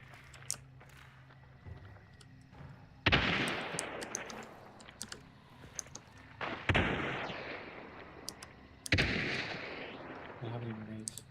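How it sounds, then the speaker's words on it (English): Gunfire in a game, with scattered sharp shots, three heavy booming blasts that tail off into long rumbling decays, and lighter clicks between, fairly quiet overall with a voice briefly present. "What are you shooting at, bro?"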